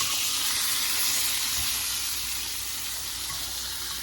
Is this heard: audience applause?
no